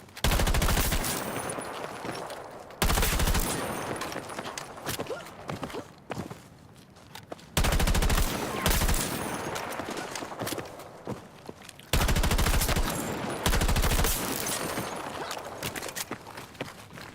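Battlefield 6 gunfire played on a controller: repeated loud bursts of automatic fire, each lasting a second or two, separated by quieter stretches with footsteps and rattling movement.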